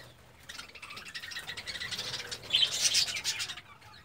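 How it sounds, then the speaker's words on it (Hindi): Parrots in a home aviary with small clay-pot nests chirp and tweet continuously at close range, with soft wing flaps, the chatter growing louder toward the end. "ये देखें, बहुत ही खूबसूरत परिंदे हैं, तोते इसको कहते हैं।"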